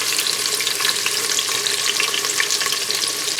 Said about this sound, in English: So our oil is hot, guys. We're adding the onions now